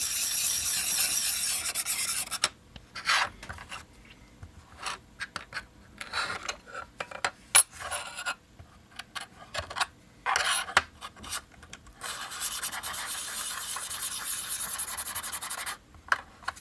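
Close, dry rubbing and rasping strokes as the back of a freshly sharpened blade is polished to remove the burr, coming in irregular bursts with short pauses and a longer steady stretch near the end, no talking.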